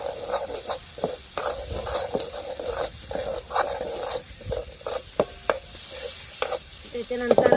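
Masala with onion and tomato sautéing in a pan for a spicy bitter gourd dish, with steady sizzling and rhythmic scraping stirs, someone speaking over the cooking.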